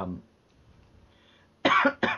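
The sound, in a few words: cough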